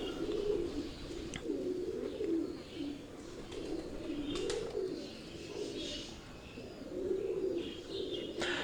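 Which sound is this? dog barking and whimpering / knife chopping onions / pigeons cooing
pigeons cooing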